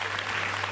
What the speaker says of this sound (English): you can give that one also an applause